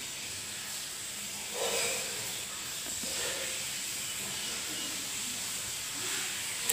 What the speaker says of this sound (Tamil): நல்லா சேர்ற மாதிரி வதக்கிடுங்க. வெங்காயம் தக்காளி கூட நல்லா சேரணும்.